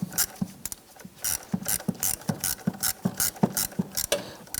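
A ratchet clicks in quick repeated strokes while tightening a power steering line fitting on a Ford Five Hundred, close and crisp, each swing a short burst of ratcheting with brief gaps between.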